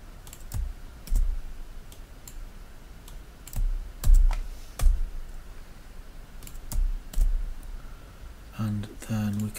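Computer keyboard typing and mouse clicking while text is cut and pasted into quiz answer boxes, heard as scattered, fairly close clicks and keystroke bursts over a quiet background, with a louder cluster near the end.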